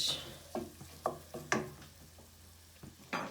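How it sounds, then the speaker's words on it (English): Minced garlic cooking in oil in a pan with a soft sizzle under repeated scraping and stirring strokes at an uneven pace, close but quiet, with no talking. "the garlic needs, just to cook a little bit. You don't want to burn it."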